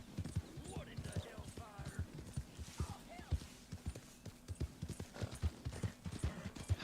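Horse hooves clip-clop steadily at a brisk pace in the Red Dead Redemption 2 open world while a fast horse chases, with someone talking over the hoofbeats throughout.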